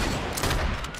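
Rapid gunfire from the Fortnite video game during a Winterfest update match, a dense continuous burst of shots with no talk over it.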